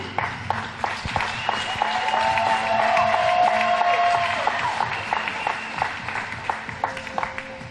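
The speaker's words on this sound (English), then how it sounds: "let's have one more round of applause for our finalists in Division II" A large crowd at a collegiate roller hockey awards ceremony applauds the finalists steadily, the clapping swelling in the middle and then gradually thinning out, with some scattered cheering mixed in.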